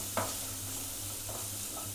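Chopped garlic frying with onions in a pan for a home-style egg and potato curry: a soft, continuous sizzle with faint scrapes of stirring, quiet and steady with no talking.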